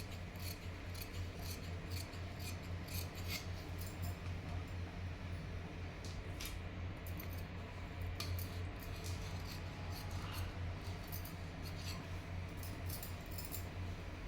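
Scissors snip through blouse fabric while a size 34 blouse is cut out, a steady run of short, sharp snips repeating over a constant low hum, with no talking.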